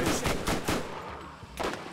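Rapid bursts of gunfire at skags in Borderlands, several sharp close shots in quick rhythm, then a pause and one more burst.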